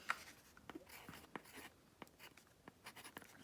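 A pen writes on paper at close range during an art supply haul, with a series of short scratchy strokes in an irregular rhythm, fairly quiet, with no talking.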